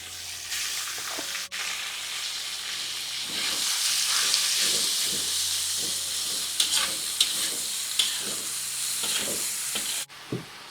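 Meat frying with garlic in a pan for a savory bakcang filling, a loud, steady hissing sizzle with intermittent stirring clatters of a utensil against the pan, close up and continuous.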